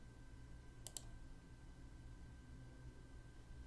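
A mouse click on a continue button comes as a quick pair of sharp clicks against faint steady background hiss, otherwise silent.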